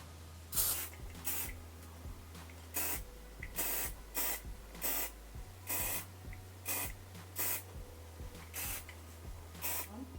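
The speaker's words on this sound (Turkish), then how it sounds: "Çok da yaklaştırmıyorum spreyi." Repeated short hiss bursts of a hair spray can, about a dozen quick sprays in an irregular rhythm, held at a distance from the hair, over a steady low hum.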